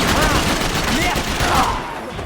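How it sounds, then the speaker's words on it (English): Dense gunfire fills a Max Payne 3 firefight, loud and continuous bursts of shots with voices shouting underneath, easing slightly toward the end. "Não cessem de atirar, rapaziada!"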